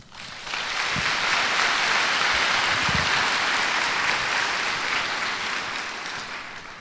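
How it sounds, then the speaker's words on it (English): Sustained applause from a fashion show audience greeting visiting apparel, merchandising and design industry members, a dense, even wash of clapping that holds steady for several seconds before easing slightly. "Please join us in giving them a round of applause as well."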